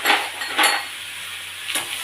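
A utensil stirs tomato with turmeric and salt in a frying pan, giving a few sharp metallic scrapes and clinks with gaps between them over a faint sizzle.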